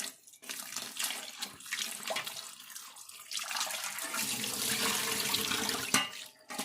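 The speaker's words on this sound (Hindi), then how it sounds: "मल मल के इसको धो लेंगे ताकि नमक इसमें सारा निकल जाए" Salted bitter gourds are rinsed and rubbed by hand in water under a running tap. Water splashes and sloshes steadily up close, with a few brief pauses and soft knocks.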